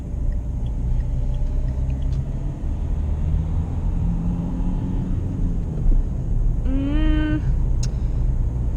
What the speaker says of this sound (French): on entend un petit peu le moteur